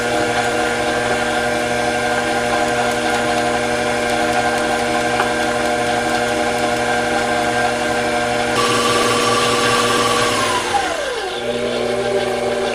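An electric hand mixer runs steadily through carrot cake batter, a loud close whirring drone with a constant pitch that rises briefly before winding down to a stop.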